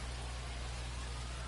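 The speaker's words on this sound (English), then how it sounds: "We're coming right up against it with the way this rain is coming down." Rain falling steadily in the baseball video game MLB The Show 25, a constant even hiss of downpour over a low hum, with no voices.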